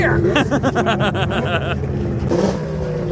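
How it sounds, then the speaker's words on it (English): A racing boat with an old ZRT engine on a lake, running on nitrous, roars loud and close, its engine pitch climbing in rapid pulses before settling into a steady, high drone. "We'll hear her pick up a few RPMs."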